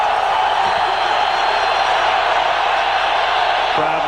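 A packed stadium crowd at a Packers home football game against the Eagles roars steadily and loudly throughout, a dense continuous wash of noise with no letup.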